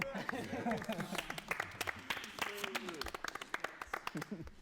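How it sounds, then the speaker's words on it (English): Scattered hand clapping from a crowd in a rich-versus-poor skit, sharp claps ticking along under steady overlapping talk. "We're clapping for the rich guy?"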